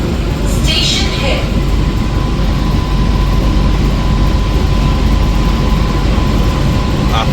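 An AC local train rolls into Kanchrapara station under cloudy, drizzly skies, a dense continuous rumble with hiss and a faint squeal, loud and close throughout.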